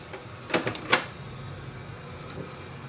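Canon Pixma TS3720 inkjet printer starting up after its ink cartridges are installed: a few quick mechanical clicks and whirring bursts early on, then a low steady hum with one faint later click.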